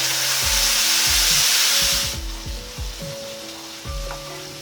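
Spice paste hits hot oil in a pan already holding toasted cumin, a pinch of asafoetida and a slit green chili, giving a loud burst of sizzling that settles into a softer frying crackle with a few stirring clatters.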